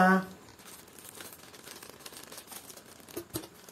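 Plastic packaging crinkles and rustles as it is cut open with scissors while unboxing a lavalier microphone, with soft snipping and a couple of sharper crackles near the end.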